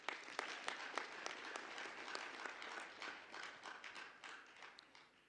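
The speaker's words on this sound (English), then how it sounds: "Let's give them a resounding applause." Applause at a health sciences graduation ceremony honouring donors and funders, a crowd clapping with distinct individual claps audible, fairly distant and gradually thinning toward the end.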